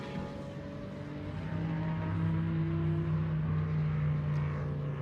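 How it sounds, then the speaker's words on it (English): A powerful race car engine drones and builds, its steady tones rising as the car approaches and roars on at the Red Bull Ring, with no voices. "Just listen to that absolute monster of a car."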